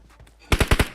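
Gunfire in the mobile game PUBG Mobile: after a quiet lead-in, four sharp, loud shots ring out in a quick, evenly spaced burst near the end.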